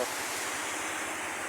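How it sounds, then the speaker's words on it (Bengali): Strong wind roars in a steady, loud rush, buffeting the microphone with a low, rumbling gusting underneath. "এই মুহূর্তে প্রচুর বাতাসে"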